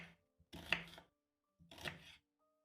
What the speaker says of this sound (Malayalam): ഇനി ഒരു വലിയ സവോളയുടെ പകുതി എടുത്തിട്ടുണ്ട്. അത് നമുക്കൊന്ന് സ്ലൈസ് ചെയ്തെടുക്കാം.